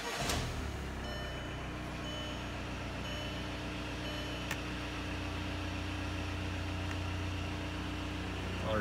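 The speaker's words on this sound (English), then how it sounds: "The new sensor's on, so we're gonna start it up here." A VW ALH TDI diesel engine fires up in a smoky shop and settles into a steady, even idle, a continuous near rumble with a sharp transient at the start and no talk over it.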